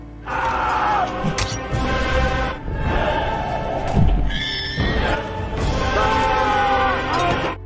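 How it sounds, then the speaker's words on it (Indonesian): A black warhorse in a film battle scene about Alexander the Great whinnies loudly several times, with clip-clopping hooves and a dense, noisy battle din beneath the cries. "Bucephalus, si kuda hitam, berjuang melindungi Alexander hingga napas terakhirnya"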